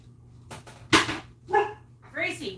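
A dog barks indoors in a few sharp, close yips and woofs spread across a couple of seconds, with short gaps between them.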